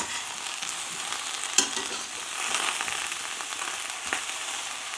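Coriander (dhana) mixture frying in a pan is stirred with a steady sizzle and scraping, plus a single brief clatter, close and moderately loud with no talk.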